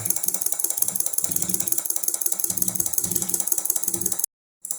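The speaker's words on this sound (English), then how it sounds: "I just turned an AC induction motor into a brushless DC motor." An AC induction motor converted to run as a brushless DC motor starts up with a steady, fast mechanical clicking and rattling that runs continuously before cutting off abruptly.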